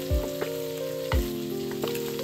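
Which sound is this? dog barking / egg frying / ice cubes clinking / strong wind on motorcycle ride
egg frying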